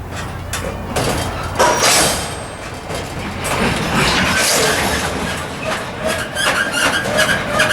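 A GO Transit train rolls past in a rail yard, its wheels clattering steadily over the track joints at close range, with scraping, rattling car noise and occasional metallic squeals throughout.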